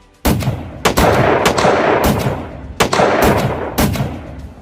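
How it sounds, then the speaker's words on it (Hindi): A pilot's gun fires shot after shot at a monster in an anime, loud, close and booming, about eight blasts in irregular bursts that each ring out and decay. "और फिर ये वाला पायलट एक के बाद एक गोली चलाए जाता है।"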